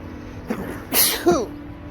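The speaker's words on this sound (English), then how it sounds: "I have to sneeze." A single close sneeze with a sharp intake and a loud burst, followed by a short voiced tail, against quiet background.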